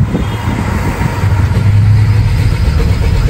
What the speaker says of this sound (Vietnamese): Bây giờ mình nổ máy lên cho mọi người nghe này.